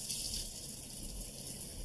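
Kitchen faucet running on the cold side with a loud fault, a steady hissing gush of water with a faint high whine, continuous and close.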